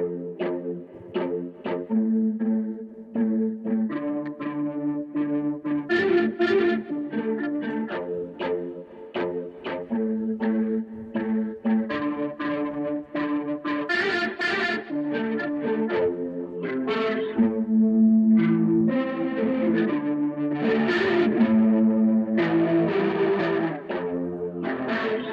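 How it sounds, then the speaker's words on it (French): Electric guitar run through the Electrum VST plugin with distortion, playing a sustained rhythmic riff of chords and notes for about twenty-five seconds, loud, close and continuous with no talking. "Je peux rajouter de la distorsion."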